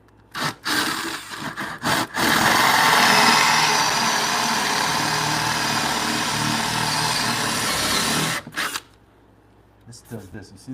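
A sharp, newer drill bit bores into timber for a timber-frame bunk bed, giving a loud, steady grinding whir for several seconds. Short bursts come before and after it, with quieter sounds at the end.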